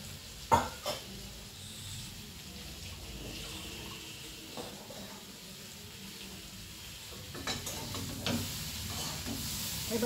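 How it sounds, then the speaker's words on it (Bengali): Hilsa fish heads and mixed vegetables fry in oil, a soft continuous sizzle broken by a few sharp knocks and scraping stirs, with louder bursts toward the end and no talking. "এবার দেখো এই সমস্ত সবজির সঙ্গে ইলিশ মাছের মাথাটাকে আমি ভালো করে ভেজে নিচ্ছি।"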